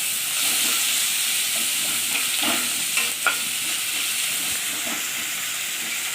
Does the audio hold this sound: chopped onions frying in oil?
yes